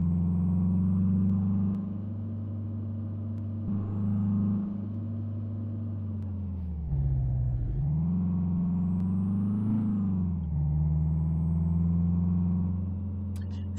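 A VW Scirocco mod car, rated at 200 horsepower, drives through Italy in Euro Truck Simulator. Its engine gives a steady, loud drone, dipping briefly as it shifts or slows and then rising again.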